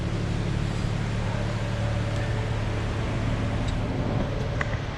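A steady, low hum from a BMW 335i engine idling runs unchanged throughout, with no speech.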